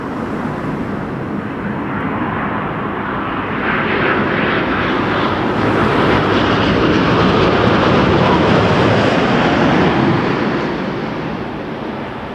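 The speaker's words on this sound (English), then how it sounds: "here's the Dreamliner" A Boeing 787 Dreamliner airliner at Toronto Pearson Airport produces a loud, sustained jet-engine roar that swells toward the middle and eases slightly at the end, heard alone.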